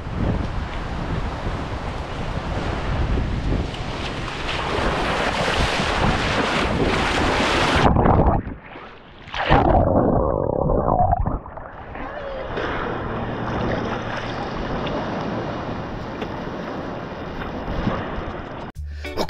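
Ocean waves wash over a beach in Puerto Rico, a loud, rushing broadband surf roar mixed with wind buffeting the microphone, shifting in intensity partway through, with people talking nearby.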